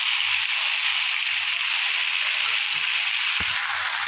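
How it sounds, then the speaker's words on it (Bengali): Loud, continuous hissing sizzle of ginger-garlic paste frying with vegetables and a fish head in a pan, with a few soft stirring knocks underneath and no speech. "আদা রসুন বাটা দিয়ে একটু কষিয়ে নেব আমি।"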